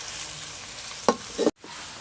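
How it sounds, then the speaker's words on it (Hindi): Garlic ginger paste frying in oil in a pan for an egg and onion curry, a soft, steady sizzle broken by two short scraping stirs of a spoon before the sound cuts off. "1 चम्मच लहसुन अदरक का पेस्ट है, ये शामिल कर रहे हैं। थोड़ी जी इसकी भुनाई कर सा।"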